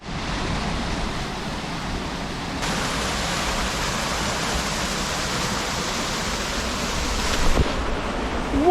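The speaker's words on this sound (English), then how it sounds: "I think there might be a waterfall or something just around the corner from us as well" Waterfall in Snowdonia, North Wales, rushing into a plunge pool, a loud, steady broadband roar throughout with no talk.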